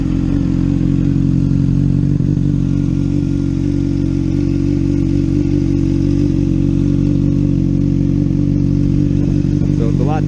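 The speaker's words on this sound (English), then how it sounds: "I installed a Two Brothers Black Series slip-on, and it sounds... I'll start it up for you quick." A 2013 Honda CBR600RR with a Two Brothers Black Series slip-on exhaust runs at a loud, steady idle throughout, a close, continuous throbbing drone with a slight blip near the end.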